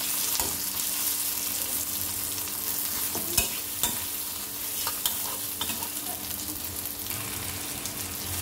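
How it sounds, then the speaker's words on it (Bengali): Green chilies, tomato and onion fry in a pan, a steady sizzle with occasional stirring clicks and scrapes running throughout, fairly close and moderate in level with no voices. "কাঁচামরিচ, টমেটো এবং পেঁয়াজটা ভালো করে ভেজে নেব।"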